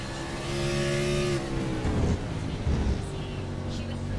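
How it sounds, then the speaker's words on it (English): Race cars roaring around the Circuit of the Americas at a night round, a loud sustained engine drone with shifting pitch as cars pass, steady and fairly close throughout. "Listen to these cars roaring."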